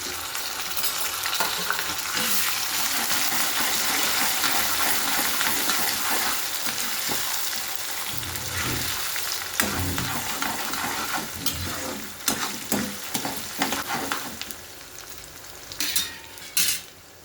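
Mustard seeds spluttering in hot oil for traditional temple-style pulihora, a steady dense sizzle with stirring and scattered sharp pops and clinks of a utensil against the pan growing more prominent toward the end.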